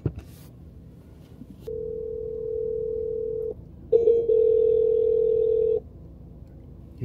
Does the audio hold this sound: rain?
no